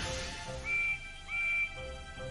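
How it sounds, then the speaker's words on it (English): Two faint, steady toy train whistles from a Thomas & Friends Percy engine, each lasting about a third of a second, one after the other over a soft background hum. "Then he heard a faint whistle."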